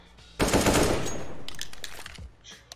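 A sustained burst of rapid automatic gunfire in a competitive shooter game, loud and dense for about a second and a half, then trailing into a few scattered shots and echoes with no talk.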